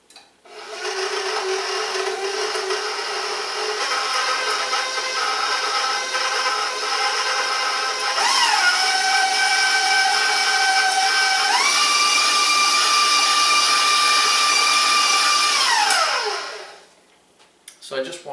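Electric mixer creaming five tablespoons of butter for a blueberry coffee cake, a steady whirring drone that shifts up in pitch twice as the speed changes, then cuts off near the end.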